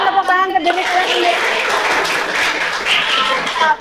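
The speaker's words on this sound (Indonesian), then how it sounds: "Berikan tepuk tangan ke diri kalian sendiri." Students in an Indonesian classroom break into scattered clapping right after a short spoken phrase, the applause filling the room fairly loud and steady for a few seconds.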